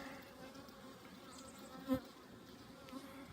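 Honey bees hum around an opened hive during an inspection, a faint steady drone with one bee passing close and briefly louder.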